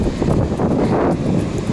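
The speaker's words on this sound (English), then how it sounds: "I hope you can hear me. I know it's very windy." Strong wind at a coastal lookout buffets the microphone in a loud, continuous roar with gusty swells and no voices.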